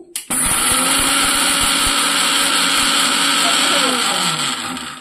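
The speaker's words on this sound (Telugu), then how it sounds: "మిక్సీ వేసుకోవాలండి." A mixer grinder blends leafy greens with rock salt into a chutney, a loud steady motor whine that starts abruptly after a brief pause and runs continuously, with faint rattling underneath.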